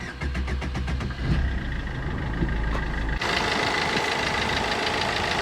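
A 2013 Swift car engine runs with a low rhythmic knocking idle, then the sound shifts to a louder, broader steady engine rumble midway.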